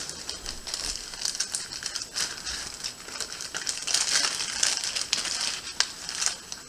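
Plastic bag being handled and curled at a fly-tying bench, a close, quiet stream of crinkling and rustling with brief sharper crackles, with no voice over it.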